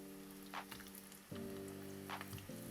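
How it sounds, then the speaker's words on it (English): Sopes fry in a pan of oil over low-medium heat, a soft, steady sizzle with faint crackles and pops, quiet and close, beneath a low background hum. "I've set my pan with oil on low-medium heat and I'm gonna start frying them"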